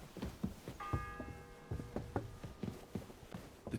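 A church bell in Kingdom Come Deliverance II rings with a sustained, ringing tone over a steady background of soft thuds and footstep-like knocks, the bell's hum fading slowly.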